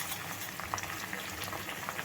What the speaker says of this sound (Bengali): আর পাতাগুলো এমনভাবে ভাজতে হবে যেন না কাঁচা থাকে, আর তেলটার কালারটা চেঞ্জ হয়ে যাবে।